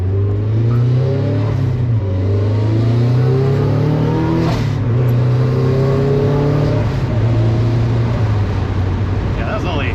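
A turbocharged 1997 Mazda Miata engine revs up and accelerates loudly at partial throttle, pitch climbing through gears with a strong, close roar that dips briefly between shifts.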